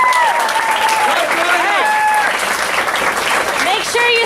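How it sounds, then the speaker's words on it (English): Loud, steady applause from a crowd at a July 2018 graduation ceremony honoring graduates, with scattered whoops and cheers running over the clapping throughout. "so let's give them a round of applause!"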